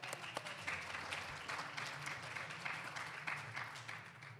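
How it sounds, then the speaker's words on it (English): A crowd at a classic powerlifting championship gives a steady round of applause, many hands clapping in a continuous patter that holds for several seconds at a moderate, slightly distant level. "We can take this opportunity just to give our spotters and loaders a round of applause."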